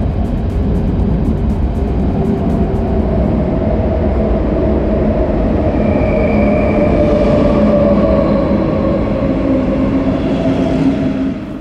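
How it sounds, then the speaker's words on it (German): An RE1 double-deck regional train runs along the Berlin Stadtbahn, a steady loud rumble of wheels and running gear with faint high whines and squeals drifting in and out, heard alone without voices. "Unterwegs sind wir dabei mit dem RE1 und somit mit einem Dosto."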